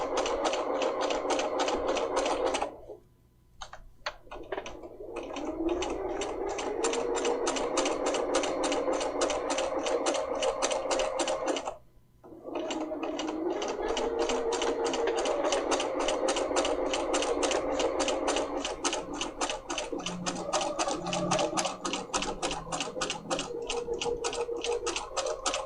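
A Bernina 300 series sewing machine stitches in a zipper with small stitches, running as a steady rapid mechanical chatter that stops briefly twice and then resumes, loud and close with no talking.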